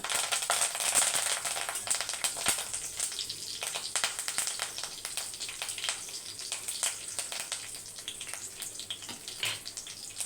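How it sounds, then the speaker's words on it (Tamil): Fennel seeds and curry leaves fry in hot oil, giving a steady close crackle and sputter with a soft hiss underneath. "சோம்பு கொஞ்சம் பொறிஞ்சி வரட்டும் கொஞ்சமாக கருவேப்பிலை"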